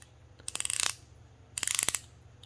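Ratcheting clicks of the rotating bezel on a Yema Superman watch: two quick bursts of crisp, closely spaced clicks, heard near and clear with nothing else around them.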